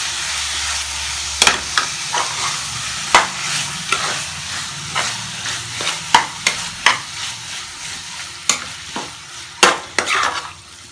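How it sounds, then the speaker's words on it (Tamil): Chicken keema stirred with masala in a hot pan, a low sizzle broken by sharp, irregular knocks and scrapes of a spoon against the pan, loud and close, with no talking. "இந்த சிக்கனை சேர்த்துட்டு அதை நல்லா இந்த மசாலாவோட மிக்ஸ் பண்ணி விட்டுருங்க."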